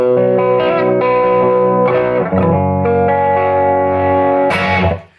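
Distorted electric guitar through Chase Bliss fuzz pedals with a thick, fuzzy tone, sustained chords ringing loudly and steadily, then cutting off abruptly near the end.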